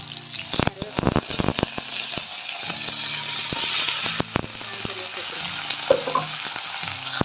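Urad dal and green chillies sizzle in hot oil in a pan, a close crackling hiss broken by clicks and scrapes of stirring, with no clear talking.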